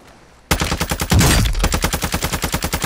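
Call of Duty Modern Warfare II gunfire: a sudden, loud, close automatic burst of rapid evenly spaced shots that continues steadily after a brief blast.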